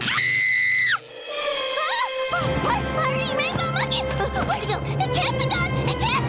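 A sustained high scream from a cartoon child starts it, then after a brief drop many shrill cries and wails rise over a noisy, chaotic background.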